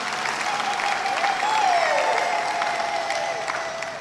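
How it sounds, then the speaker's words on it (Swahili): A church congregation applauds at a jubilee Mass honouring priests marking 50 and 25 years of priesthood, steady dense clapping filling the space for the full stretch with a sustained tone running beneath it. "Naomba tuwapongeze kwa makofi"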